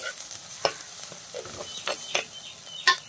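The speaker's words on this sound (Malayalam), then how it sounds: "അതിൻ്റെ ആ പച്ച മണം മാറുന്നത് വരെ നന്നായിട്ടൊന്ന് വഴറ്റിയെടുക്കണം." Crushed ginger, garlic and onion saute in a pan for a fish curry, producing a soft, steady sizzle with several sharp spoon clinks and scrapes spaced through the stirring.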